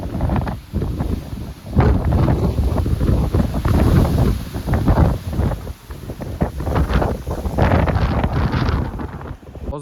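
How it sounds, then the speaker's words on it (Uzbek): Strong wind outdoors in a Japanese village buffets the microphone in a continuous rough roar that swells and dips in gusts, with no speech. "Hozirgina shamol bo'lyapti, juda ham qattiq."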